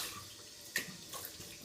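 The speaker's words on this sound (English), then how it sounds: "let's put some more water on my face" Water splashed onto a face during a safety-razor shave, a brief faint splash and trickle from a running tap, heard alone.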